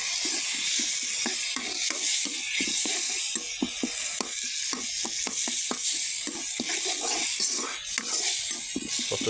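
Lentils fry in a pan over a wood-fired clay stove, a soft hiss overlaid with a steady train of rapid ticking scrapes as they are stirred, close but moderately quiet.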